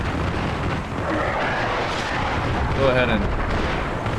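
Rapid autocannon fire booms and rumbles in an Armored Brigade II battle with a future-conflict mod, a continuous dense barrage with distant explosions beneath a voice speaking.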